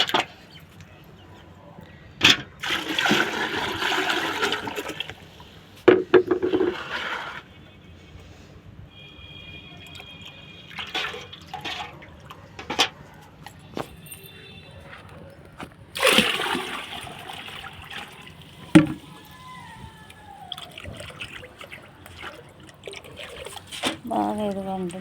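Water sloshing and splashing as aloe vera liquid fertilizer is diluted at a 1:5 ratio for plants, in intermittent bursts of stirring and pouring with quiet gaps between.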